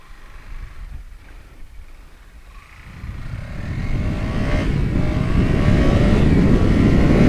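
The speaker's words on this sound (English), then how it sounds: "Initial acceleration of this bike" A KTM Duke 200 BS6 motorcycle pulls away and accelerates, its engine note rising and swelling from a quieter idle-like hum into a loud, sustained, close-up drone that builds steadily over several seconds.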